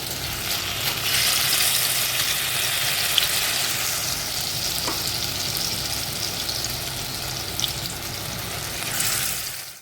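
Pumpkin leaf and shrimp paste fritters in gram-flour batter fry in hot oil with a steady, close broadband sizzle that holds even throughout, with a few faint clinks and no talking.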